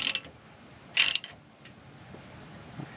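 A socket ratchet tightening a bolt on a Ram Promaster van's shock absorber: two short bursts of metallic clicking, close and fairly loud, then quiet.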